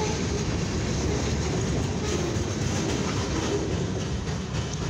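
A mixed freight train rolls steadily past a crossing at close range, a continuous rumble with rhythmic clattering of wheels on track.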